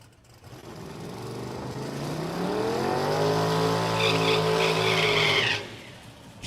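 A little yellow Chevrolet S10 makes a drag racing pass in the left lane at a motorplex, its engine note rising steadily and loudly as it accelerates away, then cutting off sharply near the end.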